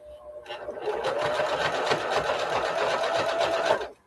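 A sewing machine runs a zigzag stitch across fabric while practicing for a rope basket, a loud, steady mechanical whir with a fast rapid needle rhythm lasting a few seconds before stopping.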